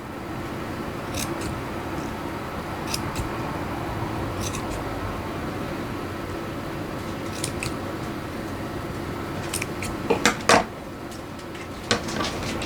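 Scissors snipping around a sock for a sock snowman craft, heard as soft, steady cloth crunches close by, with a few sharper snips bunched toward the end.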